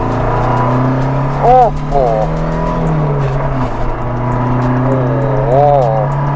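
An Alfa Romeo Giulia Sprint's exhaust drones steadily up close, rising and easing through the revs, with people talking and exclaiming over it.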